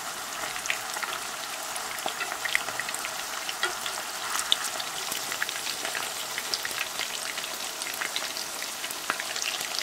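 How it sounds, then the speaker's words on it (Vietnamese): Tofu with pork sizzles and crackles steadily in hot oil over medium heat, a constant dense frying hiss with scattered pops. "Dầu nóng già thì mình cho đậu vào chiên với lửa vừa."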